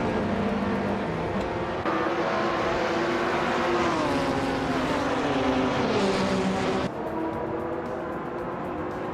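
Race cars, including a 2015 Porsche 718 Cayman GT4, roar off the line at Sitges Terramar Reverse in a racing video game, with loud, steady engine drone and rising, shifting revs from several cars close by.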